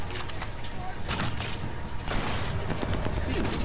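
Enemy gunfire in Sniper Elite 4 crackles as scattered bursts of shots over steady battlefield noise, with a voice talking through much of it.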